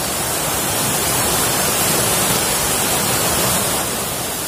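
Tall waterfall at Pincuran Tujuah, Lubuak Minturun, roaring as a loud, dense, unbroken rush of falling water close by, with no talk over it.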